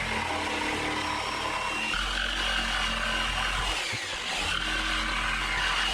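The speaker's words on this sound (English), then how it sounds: "Take your jigsaw and cut some shapes out." Jigsaw cutting shapes out of a wooden fence board for a ghost carving: a continuous buzzing, rasping motor drone that holds steady for six seconds with a brief dip near the end, close and loud.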